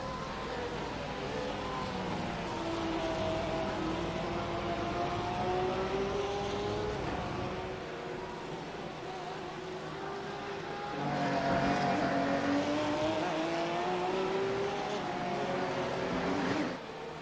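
GT3 race cars at Virginia International Raceway scream down the long straight, engine notes rising and falling as two cars pass in turn, heard at a distance under a commentator's voice.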